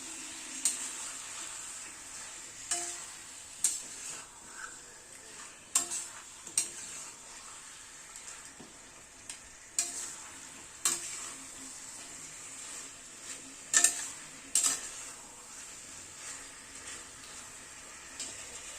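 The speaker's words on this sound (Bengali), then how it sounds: "এবার চিকেনটাকে মশলার সাথে কষিয়ে নেবো" Chicken frying in a pan with spices, sizzling steadily at a low level while a utensil scrapes and stirs in scattered sharp ticks and clacks, with no talking.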